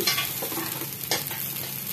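Pulao ingredients with green chillies and sugar frying in a pan, a close crackling sizzle broken by a few quick scraping stirs across two seconds, no talking.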